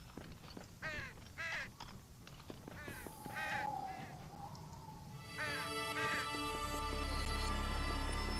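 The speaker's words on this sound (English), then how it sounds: "Parrots making the noise of crows." Parrots in the video game Sacred: Underworld give repeated harsh crow-like caws in quick bursts, loud and close, over game background sound, before a steady droning tone sets in.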